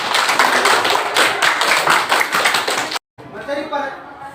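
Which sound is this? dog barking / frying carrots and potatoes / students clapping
students clapping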